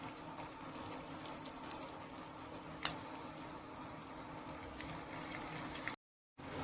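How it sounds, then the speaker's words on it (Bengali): Moringa flower pakoras frying in hot oil give a steady, even sizzle and bubble with one sharp click near the middle, then a brief cut to silence before the frying resumes. "এবারে বাকি পকোড়াগুলো ভেজে নেব।"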